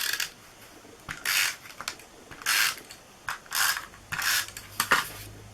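A Stampin' Up Snail adhesive tape runner being rolled across paper, giving about six short ratcheting clicking bursts in an irregular rhythm, close and clear, with no talk.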